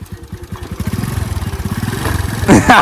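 A motorcycle with a broken silencer runs loud and close, its engine beating out a rapid, rough, evenly pulsing putter, with a louder burst and voices over it toward the end.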